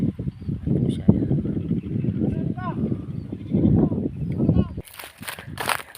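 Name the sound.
goat bleating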